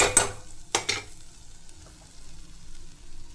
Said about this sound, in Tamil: நம்ம வெஜிடபிள்ஸ் நல்லா வதங்கிடுச்சு